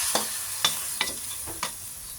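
Adobo in coconut milk made from gata powder simmers in a pot with a steady bubbling hiss, broken by four evenly spaced clinks of a spoon against the pot.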